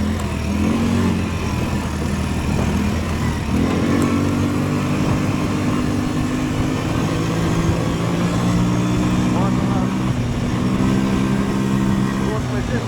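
A Loncin LX200ATV-U quad bike engine drones steadily while riding through a spring forest, a loud continuous mid-pitched motor sound with shifting tone as it revs.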